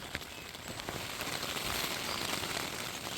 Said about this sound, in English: the rain is still coming down, and it's pretty heavy